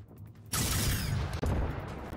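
Gunfire in Generation Zero: after a brief quiet lead-in, a loud sustained rush of blasting noise erupts close by and holds steady, with a short dip and a second hit near the end.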